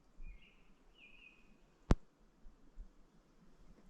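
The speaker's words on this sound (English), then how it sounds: "There's the birds over there chit-chatting." Wild birds chirp outdoors at a quiet evening campsite, a few soft drawn-out calls in the first half with a single sharp click midway, all faint against a low background hush.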